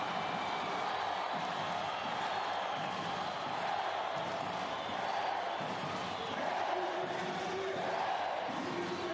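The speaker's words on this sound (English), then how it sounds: "And listen to that crowd." A large arena crowd at a Rwanda v Senegal women's basketball game roars in a continuous, steady din, heard at a distance with a commentator faintly talking underneath.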